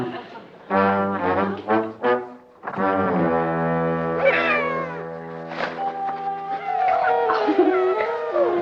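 Two kittens meowing near and loud, with several drawn-out, tonal cries following one another with short gaps.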